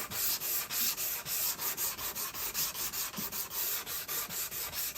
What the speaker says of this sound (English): I'm using 180 grit sandpaper